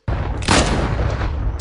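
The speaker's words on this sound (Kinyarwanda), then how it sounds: "kirekurira amasasu yitonze." Gunshots from a dubbed action film: one sustained burst of loud, close gunfire with a sharp boom near the start, continuing as dense blasts to the end, with no voices.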